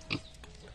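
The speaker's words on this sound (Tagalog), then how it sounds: "Bumili sila nung pig ba na alagaan nila." One short, faint grunt from a pet pig, heard alone and close.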